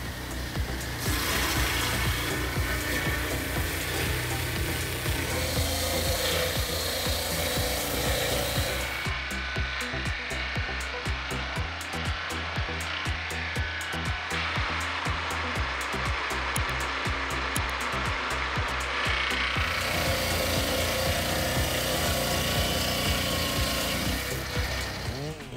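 A Husqvarna 395XP chainsaw cuts through large trees, a loud, continuous buzzing roar of the saw biting into wood that shifts in tone midway as the cut deepens.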